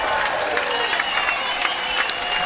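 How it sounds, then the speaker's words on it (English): Crowd applause and cheering break out after a rally point on a pro pickleball championship court, a dense, steady wash of clapping that holds at an even level throughout. "And that gets the crowd going"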